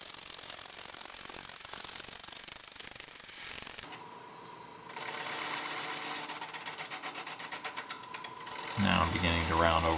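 A lathe gouge takes rough face cuts across a pine segmented ring, a dense scraping, chattering drone with a rhythmic pulsing texture that swells louder and coarser in the final seconds.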